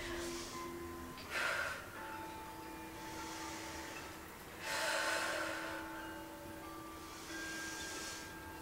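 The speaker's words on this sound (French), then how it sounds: "On inspire avec le nez, on souffle avec la bouche." Three slow, deep breaths during a yoga session, each a broad airy whoosh in through the nose and out through the mouth, spaced a few seconds apart over a steady low room hum with faint background tones.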